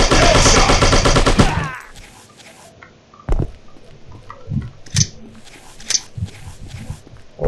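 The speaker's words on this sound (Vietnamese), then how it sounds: "Ôi súng liên tục." Rapid continuous machine gun fire in the shooting video game Striker rattles loudly and densely for the first two seconds, then scattered single shots and impacts follow more sparsely.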